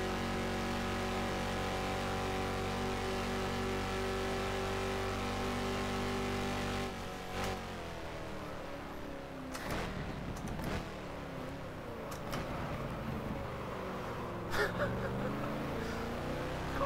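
A 1970 Lola T70 V8 race car in the rFactor sim at the Solitude circuit holds a steady high engine note, then the throttle lifts and the revs fall and climb again through gearshifts.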